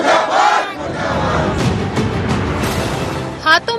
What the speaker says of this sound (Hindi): काले झंडे, हाय हाय और मुर्दाबाद के नारे।